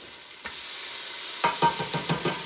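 Canned green chilies tipped into a hot sizzling soup pot, a steady fry hiss broken by a soft thud, then a cluster of wet stirring scrapes and splatters close by.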